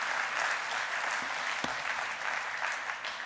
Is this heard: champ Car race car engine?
no